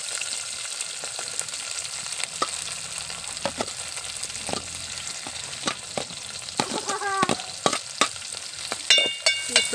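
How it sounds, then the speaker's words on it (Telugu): Onions sizzle steadily in a pan with green chillies, a continuous crackling fry broken by scattered sharp pops and a few clinks of a utensil, close and fairly loud, with no talking. "ఇప్పుడు ఈ ఉల్లిపాయలు బాగా రెడ్గా వేగాలి."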